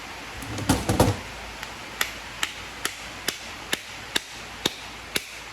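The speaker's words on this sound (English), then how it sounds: "I think you put it in the vise and hit it right there." An electric motor held in a vise is struck with a hammer, a cluster of clanks at first, then a steady series of single sharp metallic hits about half a second apart, close by.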